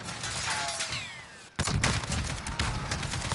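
Gunshots in a video game while aiming for a headshot: a sharp, loud shot lands after a brief quiet stretch, followed by a few more cracks against background game noise.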